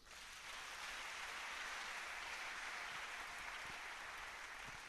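A church congregation claps together in steady, dense applause, a continuous wash of many hands at moderate distance, with no talking.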